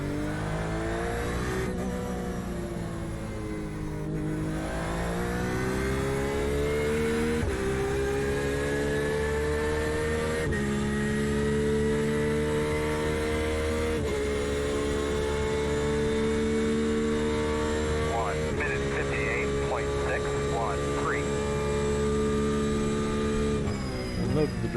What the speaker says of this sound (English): Corvette sounds really nice.